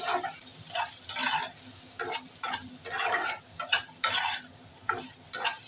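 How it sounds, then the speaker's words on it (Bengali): Papaya pieces sizzle and fry in a pan for a fish curry, with loud, close bursts of spatter and repeated clattering stirs at an uneven rhythm and no voices. "পেঁপেটাকে ভেজে নেব একটু"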